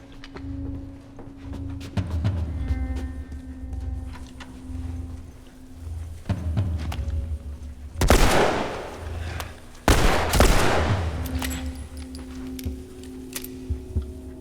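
Gunfire in The Last of Us, several sharp, loud shots spaced a couple of seconds apart with echoing tails over a low game ambience, shots at varied distances.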